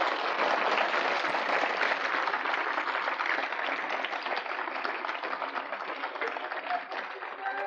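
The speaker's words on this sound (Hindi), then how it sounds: "ताली बजाइए आप जोर से।" Audience clapping loudly and steadily at a Raj Rajeshwari initiation ceremony, a dense sustained applause filling the whole stretch without pause.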